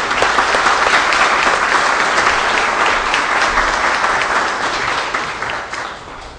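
Large audience applauding at an extraordinary public hearing of the Brazilian Senate, a dense, sustained roar of clapping that stays loud throughout and eases slightly toward the end.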